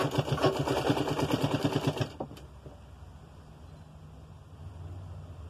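Sewing machine stitching the back neck of a blouse: a fast, rhythmic mechanical chatter runs close and clear for about two seconds, then stops abruptly, leaving quiet room noise with a faint click.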